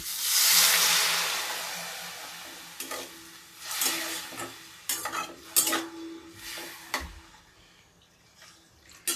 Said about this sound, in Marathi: बघा चांगला फ्लॉवर परतून घेतलेला आहे आता घालायचं थोडंसं पाणी